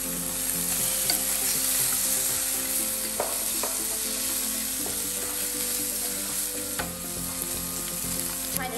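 Penang char kuey teow noodles stir-fried in a wok, a steady loud sizzle of hot oil with scattered scraping clicks of the spatula against the metal, close and continuous with no voices.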